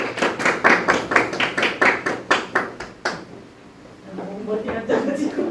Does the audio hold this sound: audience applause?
yes